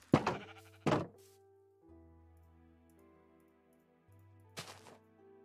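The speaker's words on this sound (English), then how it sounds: "That sheep we just got 2 fur out of, which is kind of nice." Minecraft sheep give two sharp bleats close together near the start and a third about four seconds later, with quiet game music underneath.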